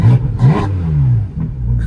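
Porsche 718 Spyder RS engine with exhaust valves open, blipped in several sharp, loud revs up close, rising and falling in pitch, then settling to a throaty idle between bursts.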